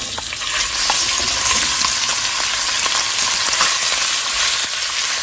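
Beef steak pieces frying in oil in a pot, a steady close sizzle with crackle and occasional stirring, no voices.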